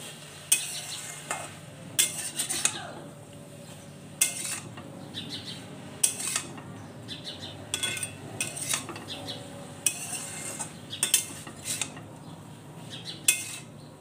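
Pumpkin greens with green chilli and poppy seed paste stirred in a pan, a metal spoon scraping and clinking repeatedly against the pot over a soft sizzle, close and fairly quiet with no talking.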